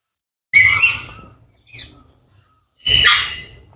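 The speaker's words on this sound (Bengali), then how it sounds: "বেশিরভাগ হচ্ছে টিয়া পাখি আর কিছু বিদেশি কবুতর আছে।" Caged parrots, kept alongside some foreign pigeons, let out three harsh, loud squawks close by: two long bursts with a short, quieter call between them.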